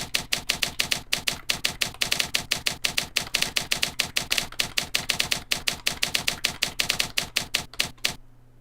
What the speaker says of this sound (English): I love the sound that it uses when you're typing stuff in there.